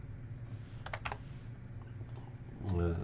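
Computer keyboard typing while entering Excel spreadsheet formulas: a few quiet, quick key clicks in a short cluster, faint and close, over low background hum, with a brief louder knock at the end.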